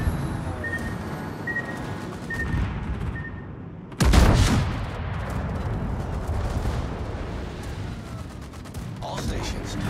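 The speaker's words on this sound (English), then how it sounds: "All stations, concentrate fire on the target." A heavy naval broadside from the USS Georgia battleship in World of Warships booms out as one deep, loud blast, trailing into a rumbling roar of distant action and background noise.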